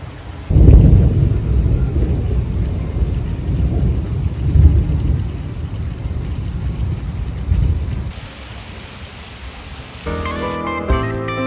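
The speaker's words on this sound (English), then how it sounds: "I don't know if you're gonna be able to see it, but it is raining." Steady heavy rain with rolling thunder during a storm in Grenoble, a loud continuous rumble and hiss outdoors with no voices over it.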